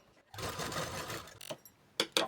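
A sewing machine runs a basting stitch on a blouse in one steady whirring burst of about a second, followed by a few separate clacks and thumps from the machine.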